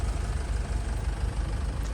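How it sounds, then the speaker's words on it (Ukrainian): A 2014 Renault Koleos with a 2.0 diesel engine and automatic gearbox idles, a steady low rumbling drone heard up close, even and continuous with no talking. "Ви чуєте роботу двигуна, двигун працює рівно, без шуму"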